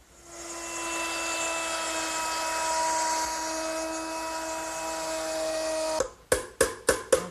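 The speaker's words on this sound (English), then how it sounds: "I'm going to route it out using a 1/4-inch veining bit set up in my router" A router fitted with a 1/4-inch veining bit cuts a wooden shelf held in a bench vise: a steady, high-pitched whine for about six seconds, then a series of sharp, rhythmic bursts.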